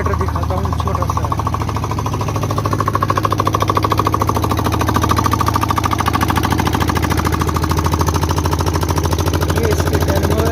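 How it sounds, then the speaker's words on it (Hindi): A small generator engine runs loudly and steadily close by, a rapid pulsing mechanical chug with a low hum, beside a shop in Quetta, Balochistan. "आज मैं आपको अपना जनरेटर दिखाता हूँ, छोटा सा।"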